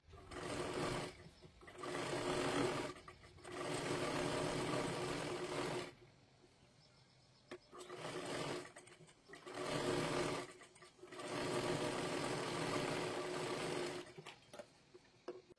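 An electric sewing machine runs in five or six whirring bursts of a few seconds each, with short quiet pauses between them, as it stitches along the edge of a sleeve.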